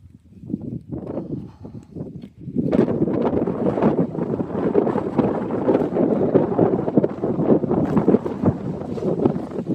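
Wind buffets a microphone on a hill summit in Galloway Forest at about 711 metres, a loud, gusty rumble that starts softer and rises into a steady roar, with no talking.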